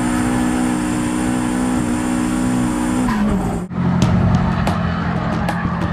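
Turbocharged race car screaming at high revs with a steady engine drone, then a sharp gear shift drops the pitch before the engine climbs again, loud and close throughout.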